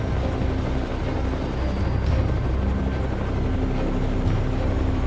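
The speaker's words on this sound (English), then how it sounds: "When the sound of the helicopter roared" A helicopter passes low overhead chasing a herd of wild boar, its rotor drone a steady, loud, dense roar that fills the whole stretch without letup.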